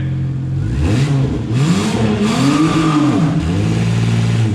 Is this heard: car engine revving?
yes